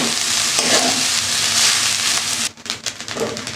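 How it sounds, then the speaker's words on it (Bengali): Rice and vegetables fry and sizzle in a pan while being stirred, a loud continuous crackle that drops off abruptly near the end and then resumes more softly with scraping. "ভাতটা এইভাবে সবজি দিয়ে ভাজা করে দিচ্ছি"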